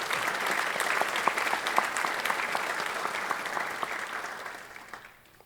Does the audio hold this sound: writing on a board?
no